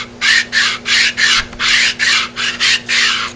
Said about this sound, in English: Take the sandpaper, wrap it around the socket, and I'm just dropping that into this channel.